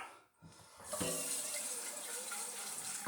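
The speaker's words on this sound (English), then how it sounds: "Take a little water, rinse out the pot." Tap water gushes into a pot and splashes around it as the pot is rinsed during home apple winemaking, starting after a brief quiet moment and then running steady and close, with no voices.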